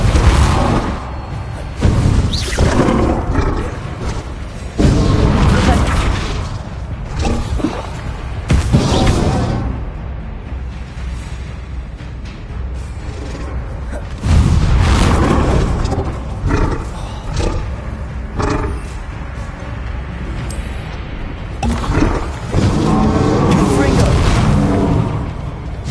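Spell combat in Hogwarts Legacy on PS5, with the Repulsor charm among rapid casts: loud, dense booming blasts, roaring whooshes and impacts that repeat without pause, with voices shouting over the din.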